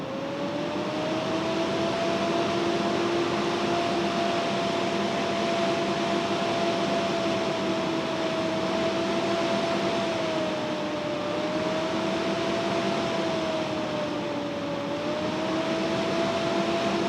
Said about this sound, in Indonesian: Buat teman-teman yang penasaran gimana suaranya dari kipas cooling pad-nya Suncell ini